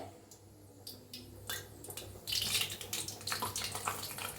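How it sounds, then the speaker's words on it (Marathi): Puri frying in hot oil: soft bubbling at first, then a louder, fizzing, crackling surge as the dough hits and puffs. Heard close, with no talking. "तळून घेऊया मस्त अशी पुरी."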